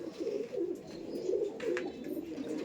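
A female Andhra (Kaldom) pigeon coos in low, rolling phrases that repeat steadily, fairly close and without speech.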